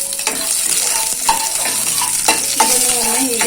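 Garlic, green chilli and a small piece of ginger fry in a pan for Udupi-Mangaluru style patrode prep, with a close, steady sizzle and repeated scrapes and clinks of a spatula stirring.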